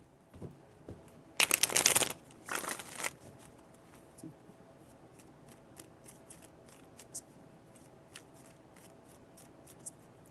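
Tarot cards are shuffled in two loud bursts, each riffle crackling close up, followed by softer card handling and small taps, with no talk.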